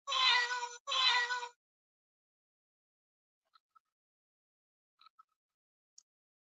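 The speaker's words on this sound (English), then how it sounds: "And she meows when you pet her." An old battery toy cat gives two loud, close meows in quick succession when petted, followed by a few faint small clicks and near silence.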